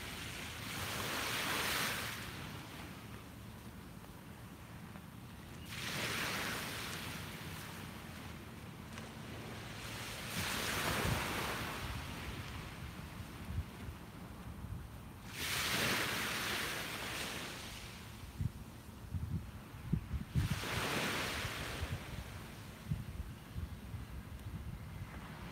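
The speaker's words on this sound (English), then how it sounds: "Let's just soak in one more minute of the sound of the waves and this beautiful palette." Ocean waves rolling onto a misty beach, slow surges of rushing surf swelling and receding about every five seconds, with wind buffeting the microphone and no talk.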